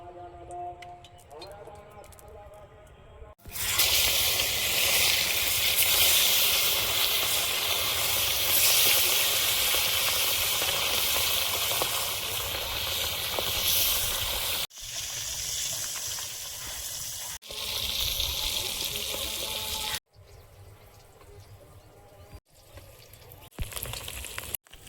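Oil sizzling loudly in a pan for frying rohu fish, a dense, continuous hiss that starts abruptly and runs through most of the clip, broken by a few cuts, with voices nearby at the start and end.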